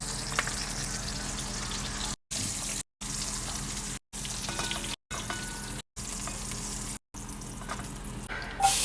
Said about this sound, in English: Some pork sausage with that frying in the bacon grease.